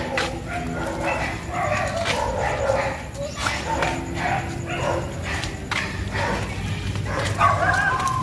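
A dog barks repeatedly at a moderate distance amid a noisy outdoor background, with people talking over it.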